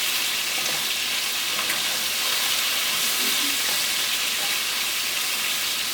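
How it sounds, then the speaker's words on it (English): Diced pork sizzles and fries steadily in a pan on the stove, a loud continuous hiss running alone through the whole stretch, with no talk. "I'm stir frying the pork meat, diced up meat in my pan that I'm going to prepare the rice in."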